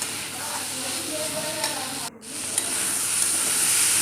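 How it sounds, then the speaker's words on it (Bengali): Spice masala for a chana masala sizzles steadily as it is stirred and sautéed in a pan, a continuous close frying hiss broken by one brief dip partway through. "ভালো করে কষিয়ে নেব মশলাটাকে।"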